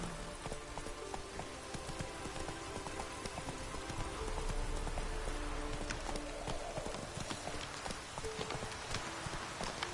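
Horse hooves gallop in the Witcher 3 video game, a fast continuous clip-clop over a noisy, rain-like background, fairly faint overall.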